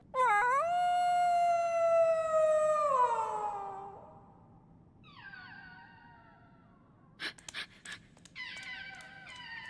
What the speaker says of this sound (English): he thinks another dog is howling back, this is presumably his own echo